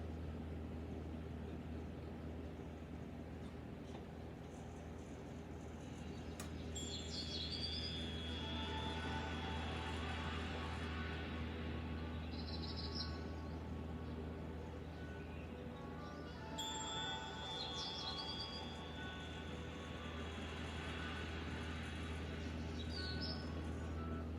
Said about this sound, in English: I could see where the birds were